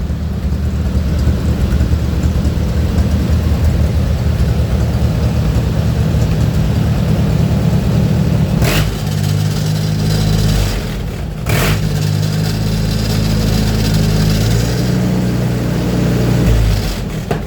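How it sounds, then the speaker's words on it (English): Two small engines idle steadily with a loud, continuous low rumble, broken by a couple of brief rattling bursts like a loose metal toolbox lid shaking. "That's the toolbox lid rattling there."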